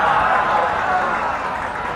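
Students in a lecture clap together, a steady dense patter of applause lasting a couple of seconds without a break.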